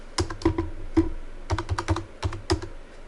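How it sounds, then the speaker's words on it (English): Clicky keystrokes on a computer keyboard at a point-of-sale repair-shop terminal as an item number is entered, arriving in quick clusters of taps separated by short gaps, close and clear with no talking. "You just scan or type in your item number that you're selling."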